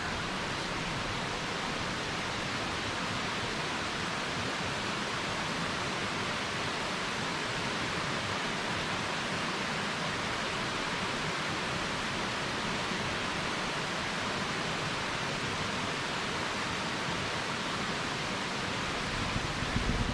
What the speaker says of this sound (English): We're just walking down the side of a creek.